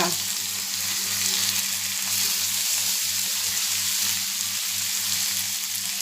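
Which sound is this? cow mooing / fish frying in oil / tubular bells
fish frying in oil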